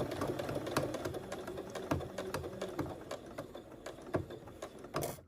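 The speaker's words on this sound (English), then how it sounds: "Here we are back at the sewing machine" A sewing machine stitches steadily nearby, its rapid mechanical clatter running continuously with a few sharper clicks along the way.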